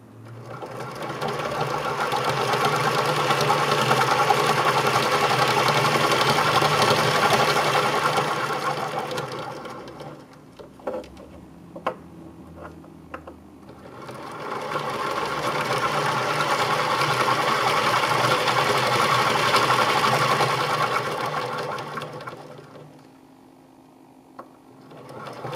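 A small brushed DC motor on a 1.5 volt battery whirs steadily in two long runs, with a brief pause of clicks and rattles between them, close and fairly loud.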